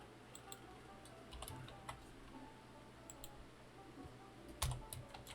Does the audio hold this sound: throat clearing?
no